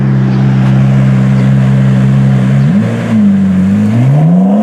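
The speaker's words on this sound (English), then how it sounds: "I'm sitting in a stoplight in a Ferrari Challenge car" Ferrari Challenge race car idling loudly at a street stoplight, a deep steady engine drone that dips briefly, then rises and wavers with a blip of revs.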